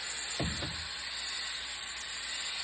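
A sprayer lays a texture coating onto a part of a barn find Camaro under restoration, giving a continuous, even hiss throughout, with a couple of soft low thumps near the start.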